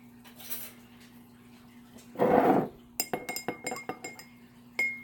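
A glass jar takes dark blue dye as it is mixed, giving a brief rattling swirl followed by a run of sharp, close clinks of a utensil tapping the glass, all fairly quiet with no voice.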